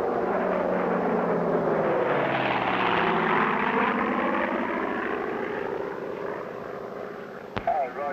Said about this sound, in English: All day long, planes flew overhead, dipping in salute